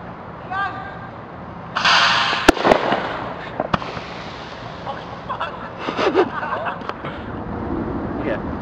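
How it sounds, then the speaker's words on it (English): Fireworks rockets fired from a compressed air cannon outdoors at dusk: a sharp burst of launches and cracking pops, then scattered bangs and crackle at moderate distance, with people talking faintly in the background. "now that we have blasted like several rockets with our air cannon"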